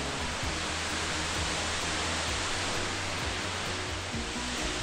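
Waterfall on the Appalachian Trail approach, a steady broadband roar of falling water filling the whole clip at constant loudness, with no talk.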